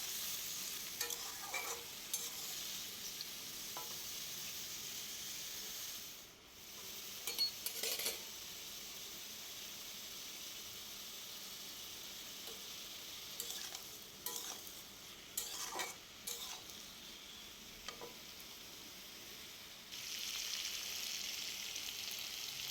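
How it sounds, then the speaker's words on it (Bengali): Vegetables are lightly fried in a pan for a dish of katla fish head with Malabar spinach, giving a continuous close sizzle broken by occasional scraping stirs and utensil clinks, with a brief dip near the middle. "আর এই সবজিগুলো আমি সব হালকা একটু ভেজে নেব।"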